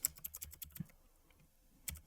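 Typing code on a computer keyboard: quiet, close clicking keystrokes in a quick irregular run, a pause, then a final key tap.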